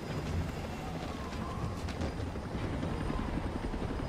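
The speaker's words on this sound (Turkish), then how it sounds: "Helikopter sesi." A helicopter in the video game Batman: Arkham Origins drones steadily with a low, chopping rotor rumble, constant and moderately loud with no talking.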